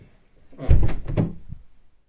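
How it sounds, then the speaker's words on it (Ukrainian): A door swings shut indoors with a solid low thunk and brief rattling knocks of the latch, close by, heard alone over quiet room noise. "я двері закрила"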